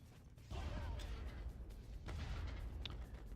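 Grenade blasts in the shooter game Far Cry, a deep rumbling explosion kicks in suddenly and rolls on with a second heavy burst, low and boomy, at a moderate level.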